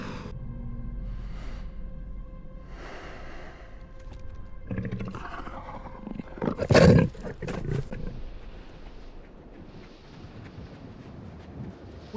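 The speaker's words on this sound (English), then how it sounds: "Just an old tiger sensing his end." An old tiger in a film scene lets out a loud, close roar in the middle of a windy outdoor soundscape, with softer rumbling growls before and after and no speech.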